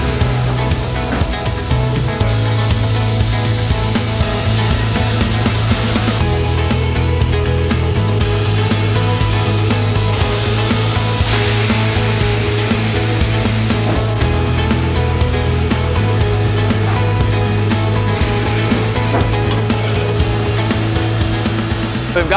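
A sawmill blade cuts lengthwise through an orange wood log, a loud continuous whining drone that shifts pitch as the cut progresses, with no talking.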